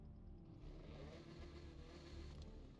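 Engine of an Italian exotic car in the racing game Forza Horizon 6, a low continuous drone that rises and falls slightly as it revs, steady and alone without speech.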